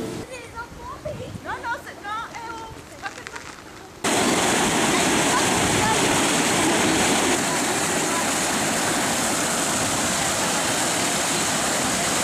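Canal water from the Vésubie pouring into large basins, a loud steady rushing roar that cuts in suddenly and continues unbroken; before it begins, children's voices and chatter are heard over a softer outdoor background.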